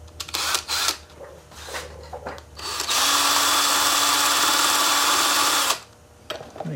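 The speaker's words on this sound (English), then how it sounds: "I hooked the screw gun up for you guys there" Power screw gun backing screws out during a Maytag 72 engine repair: a few short bursts of whirring, then one sustained whine lasting about three seconds, close up with no talk.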